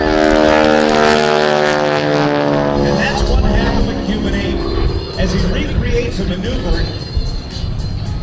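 A Starduster II biplane at an air show drones loudly overhead, its steady propeller engine tone holding, then breaking into rougher, fluctuating roar as it maneuvers.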